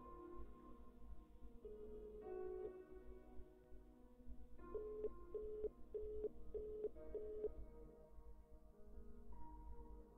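A phone in a self-isolation video game dials and rings, with a few tones early on, then a quick run of evenly spaced beeps, then a soft ring tone, all faint and clean.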